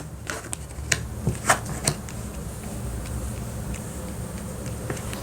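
Tarot cards being shuffled close up during a reading, a quick run of crisp riffling snaps in the first two seconds and then softer sliding of the deck, with no talk.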